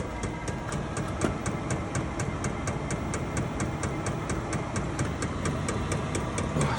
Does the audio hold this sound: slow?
no